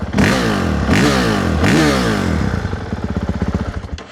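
A Honda CRF450RX dirt bike engine on its stock exhaust, loud and close, revved in three rising blips and then settling into a rapid, pulsing idle.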